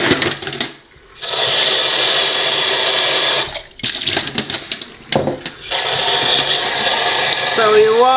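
Tap water runs loudly into a sink while makeup brushes are rinsed, a broad steady rush with several brief breaks where the flow is interrupted or muffled.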